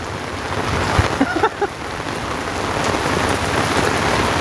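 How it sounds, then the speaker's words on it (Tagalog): Steady rain pours down outdoors, a dense, close hiss of drops striking surfaces, with a few brief knocks and splashes early on and a voice speaking briefly underneath. "hindi pa ganong kalakasan talaga yung ulan no?"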